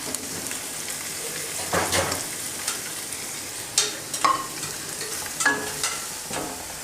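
Minced meat (keema) fries in a pan with green chillies and tomatoes, giving a steady, soft sizzle broken by a few louder scraping stirs of a spoon. No one speaks.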